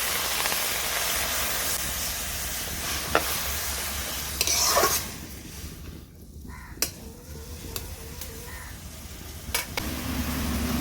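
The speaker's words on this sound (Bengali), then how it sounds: "কড়াইয়ে আমি দিয়ে দেবো বরবটিগুলো। এবার বরবটিতে একটু জল দিয়ে দেব" Water poured over yardlong beans in a hot wok sets off a loud, close sizzle and steamy hiss that eases midway, with sharp clinks of a utensil scattered through.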